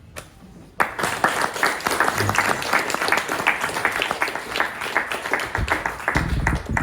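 An audience at a comedy debate breaks into sustained applause, dense clapping that starts abruptly and carries on steadily, with some voices mixed in.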